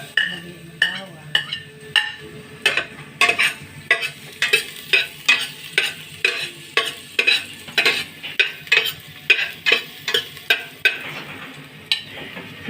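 Garlic frying in oil in a pan for chicken tinola, Bicolano style, with a constant sizzle under quick rhythmic scraping and clinking of a spoon or spatula against the pan, close and steady for the whole stretch.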